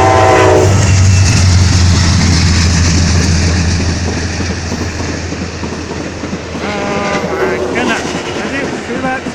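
An Amtrak Coast Starlight passenger train with two locomotives roars past up close on the BNSF Seattle subdivision with a heavy rumble and rhythmic wheel clatter, its horn blaring at the start and again later.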